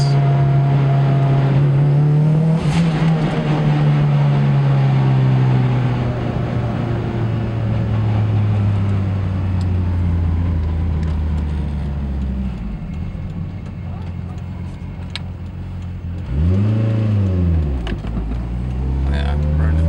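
Engine of a Mitsubishi Evo with a 2.4L stroker build running E85, pulling steadily in second gear at light part throttle; a loud, continuous low drone that sags and then revs up again near the end.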